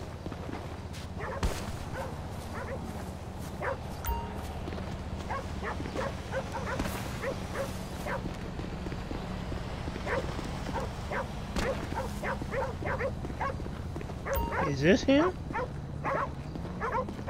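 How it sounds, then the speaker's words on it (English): Two dogs bark intermittently in Grand Theft Auto V, mid-distance, mixed into steady game ambience and someone talking over most of it. "Why does he have two dogs barking?"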